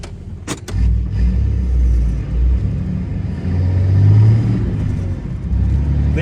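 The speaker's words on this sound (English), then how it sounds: "Key in the on position, clutch in, shifter in neutral, crank her on up." A 2017 Ram 2500 Tradesman 6.7L diesel pickup with a six-speed manual cranks with a couple of sharp clicks, then catches and settles into a steady, deep rumbling idle that swells slightly, close and loud.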